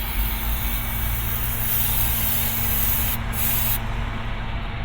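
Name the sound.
brake cleaner being sprayed on truck oil change components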